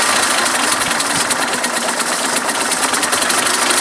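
A Mercedes 126 with new ignition wires idles roughly and unevenly, a loud, close, continuous engine clatter with a dense hissing texture and slight pulsing irregularities.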